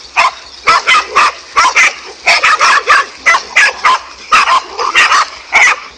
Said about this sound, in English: this king cobra managed to get in trouble with a pack of 5 dogs